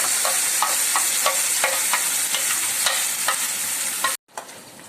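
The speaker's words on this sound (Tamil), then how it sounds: "இந்த பேஸ்ட் ஆட் பண்ணிவிட்டு நல்லா பேஸ்ட் வதங்கணும்" Ground paste for kadai vegetable frying in hot oil, a continuous close sizzle with regular stirring scrapes throughout, cutting off abruptly near the end.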